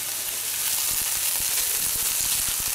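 Labskaus ingredients sizzle and fry steadily in a pan with potato broth added, a dense continuous hiss with faint scattered crackles and stirring clicks, close and fairly loud throughout.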